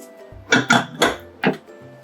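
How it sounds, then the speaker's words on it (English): A pressure cooker being opened after its pressure has been released, with a few short metallic clanks and knocks of the lid close by, followed by quiet. "Now we are opening our cooker."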